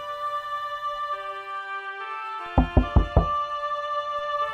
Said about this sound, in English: at last the captain knocked on the door